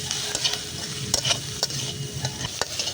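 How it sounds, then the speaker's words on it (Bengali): Onion filling with cumin powder and garam masala is stir-fried in a pan, giving a steady sizzle broken by repeated scraping strokes of a spatula, close and fairly loud with no voices. "এবার ভালো করে এগুলোকে ভেজে নেব"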